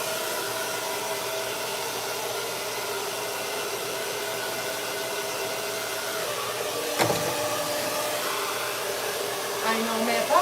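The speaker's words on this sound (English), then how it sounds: "hear the sound of the blow dryer for 20 minutes" A blow dryer runs continuously during a hair styling session, a steady whooshing motor drone held at even loudness for the whole stretch, with a brief bump partway through and small clatters near the end.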